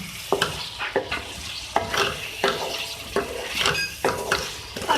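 Chicken liver being stirred with turmeric powder in a pan, a spoon scraping in steady repeated strokes about once a second over a soft background sizzle, close and fairly loud with no talking.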